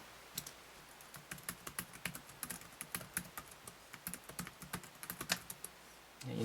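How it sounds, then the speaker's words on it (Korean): Quiet, close-up typing on a Sony VAIO Duo 11 laptop keyboard: rapid, irregular clicks of keys being pressed in bursts, with no other sound. "키보드를 직접 한번 쳐보죠"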